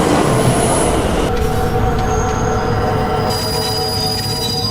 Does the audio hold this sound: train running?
yes